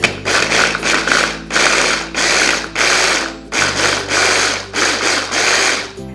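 Food processor mincing garlic for spicy garlic salmon, a loud motor whir running in repeated short pulses of about half a second to a second, with a rattling chop of the blade throughout.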